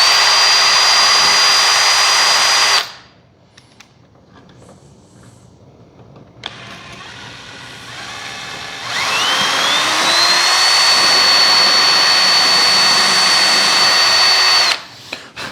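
A power drill fitted with a smaller bit whines steadily while working on a 65-inch OMP Hobby Bushmaster model plane, running about three seconds, pausing with faint handling noises, then running again for roughly six seconds.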